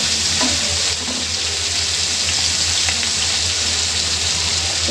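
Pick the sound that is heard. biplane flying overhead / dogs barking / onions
onions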